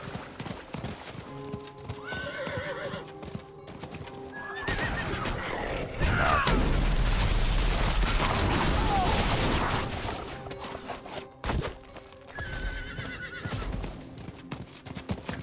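A horse in Diablo IV gallops with rhythmic clip-clop hoofbeats and lets out whinnies, alongside bursts of game combat noise and crashes in the middle, moderately loud and near.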